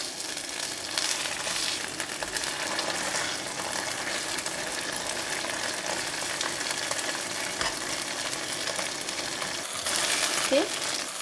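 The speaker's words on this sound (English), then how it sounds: "I'm going to put in the fish like this. Let it coat the fish with the sauce that we prepare." Fish deep frying in hot oil with a sauce coating, a steady broad sizzle running throughout, close and fairly loud, with a brief brighter surge of bubbling near the end.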